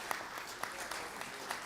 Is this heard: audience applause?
yes